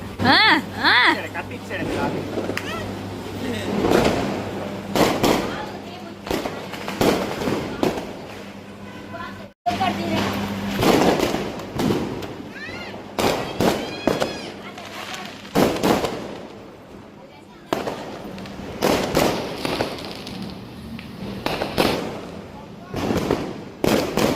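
Firecrackers pop and crackle repeatedly with bursts of fountain-like hissing, while people talk nearby throughout.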